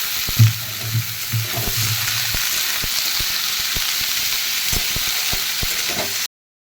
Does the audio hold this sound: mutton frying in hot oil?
yes